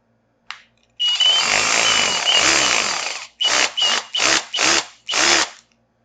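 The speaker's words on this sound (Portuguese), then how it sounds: "Agora eu vou mudar aqui para o martelete." A power drill switched into hammer mode is heard close up: one brief burst, then a long continuous run with a rattling hammering texture, followed by five short separate bursts of the drill, with no talking.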